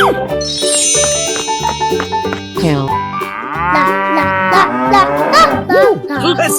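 Cartoonish cow moos in a 3D animal sliding video game, several drawn-out lowing calls rising and falling over upbeat looping game music with chimes.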